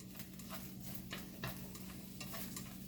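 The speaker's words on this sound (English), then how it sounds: "I'm a bit frying pork meat." Pork meat frying in a pan for a stew, a steady soft sizzle running throughout with a few stirring scrapes now and then, fairly quiet and close.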